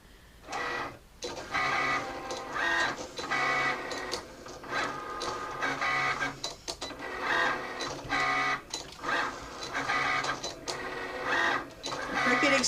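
A Cricut Explore Air cutting machine, or two running side by side, draws with a pen, giving a busy mechanical whir of motor runs and carriage moves with short stops and restarts throughout.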